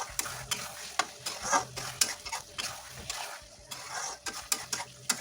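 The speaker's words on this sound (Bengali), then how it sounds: "একটু ঘি দিয়ে দেবো।" Ghee sizzles in a pan of cabbage with green peas and potatoes while a utensil stirs and scrapes against the metal. The clinks come in a quick, irregular rhythm, close and moderately loud over a soft frying hiss.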